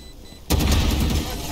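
Gunfire from a shooter video game bursts in suddenly and loud after a quiet start, a dense volley of shots that keeps going to the end of the clip.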